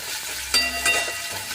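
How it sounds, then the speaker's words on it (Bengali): Chopped onion and five-spice (panch phoron) hit hot oil in a pan, a sudden hiss rising into steady sizzling frying with brief stirring scrapes. "এবার এই তেলে দিয়ে দিচ্ছি 5 ফোড়ন, দিয়ে দিচ্ছি পেঁয়াজ কুচি।"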